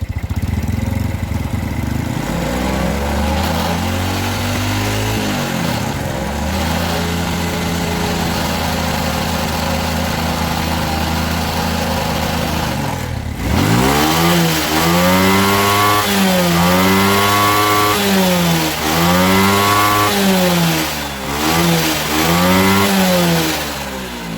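A small Suzuki Smash motorcycle engine with a fuel and black-smoke idling fault sputters at idle, cuts briefly, then restarts and revs repeatedly in rising and falling bursts, loud and close.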